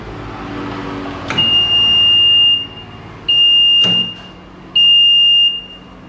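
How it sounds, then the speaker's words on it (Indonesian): An ATS (automatic transfer switch) panel alarm beeps in three loud, sustained high-pitched tones with short gaps between them, while a running generator hums steadily underneath. "Alarmnya berbunyi, menandakan bahwa genset masih hidup."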